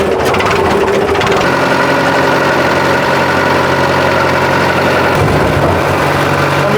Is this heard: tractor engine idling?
yes